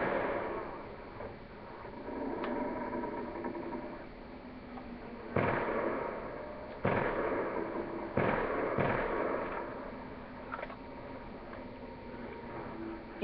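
Grenade explosions in Call of Duty: Black Ops II Zombies, survival mode on the Farm map, coming as several muffled booms in quick succession over a low constant game rumble.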